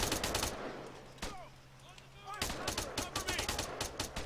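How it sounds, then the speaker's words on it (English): Rapid bursts of gunfire in the video game ArmA 3 crack out in quick succession, pause briefly, then resume in a dense volley, with a voice talking underneath. "They hear the gunshots."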